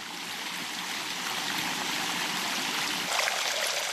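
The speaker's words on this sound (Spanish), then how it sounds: "uno está presenciando cómo corre el agua, la está oyendo" Water rushes down the stone channels of the Alhambra's water staircase in a dense, steady, close-up flow that swells slightly near the end, with no voices.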